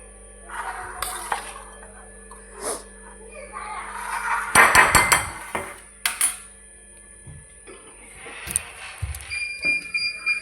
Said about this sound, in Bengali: পেঁয়াজ, লঙ্কা, আদা যেগুলো করে রেখেছিলাম সেগুলো আর কি মিশিয়ে নিচ্ছি